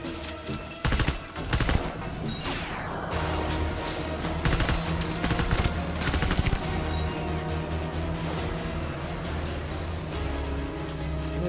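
Gunfire in the video game Death Stranding: bursts of rapid automatic shots and scattered single cracks come in clusters over a steady game soundscape, loud and close, with no talk.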